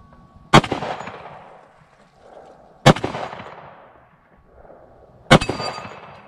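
Three loud, widely spaced shots from a Smith & Wesson M&P 10mm pistol fired at a small steel plate outdoors, each a sharp crack with a ringing metallic decay and echo.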